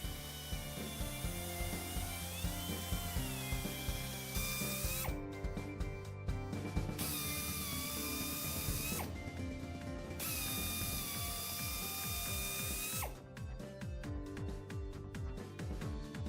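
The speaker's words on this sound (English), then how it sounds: "Because of the increased thickness and amount of steel in a radial truck tire, the injury should be drilled 5 times from each direction." A carbide cutter on a drill bores through the steel-belted injury of a radial truck tire, giving a loud, continuous grinding whir with clicking, ratchet-like chatter that surges and drops as the bit is pushed in and pulled back.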